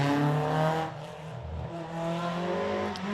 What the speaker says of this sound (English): Here we have Corey Fechner in the BMW M3. Have a listen to this car.